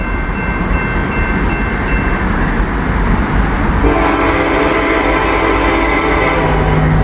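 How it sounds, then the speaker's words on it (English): A Norfolk Southern locomotive train approaches, its low rumble building steadily and sounding loud and close, with a sustained horn blast coming in partway through and holding to the end. "We got a train on the way. I believe this is Norfolk Southern"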